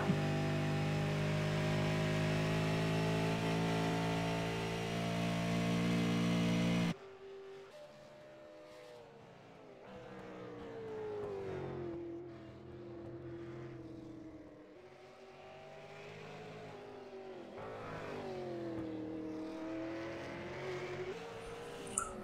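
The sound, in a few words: race motorcycle accelerating out of a hairpin corner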